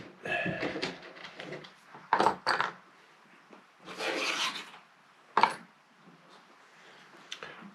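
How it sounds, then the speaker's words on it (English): Screws being worked out of a Fanatec QR2 quick release, a series of short scraping, rasping bursts and small metallic clicks close up, separated by quiet gaps. "Let's just get these screws out of the way"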